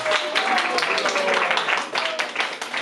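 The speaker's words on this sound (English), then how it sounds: "Please give a round of applause to Maharaj." Audience applause rings out at a spiritual talk by a speaker in Ottawa, a dense, steady wash of clapping filling the whole stretch with a few voices calling out on top.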